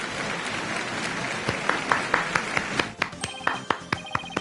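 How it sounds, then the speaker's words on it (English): Clapping in the Apollo Justice video game, a run of sharp, evenly spaced claps rising out of a busy, noisy game background, a little faster toward the end. "Why am I clapping?"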